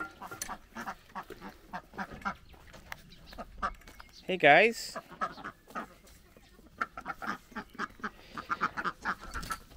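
Ducks in a backyard duck pen quack in short bursts, one louder call standing out near the middle, while someone talks over them close by.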